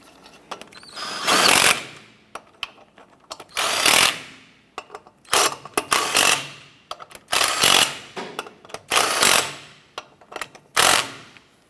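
Lug nuts being snugged down on a Chevy S10 wheel with a power tool: about seven loud, close bursts of impact-wrench rattle, each lasting under a second, separated by short pauses, with no talking.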